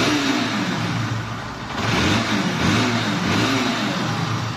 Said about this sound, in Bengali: বাইকের সাউন্ড কন্ডিশন আপনাদেরকে দেখায়।